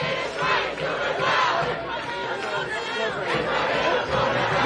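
Protest crowd on a New York City street at a march for Palestine, chanting slogans in unison against the NYPD, a loud and dense wall of many voices that rises and falls in rhythm throughout.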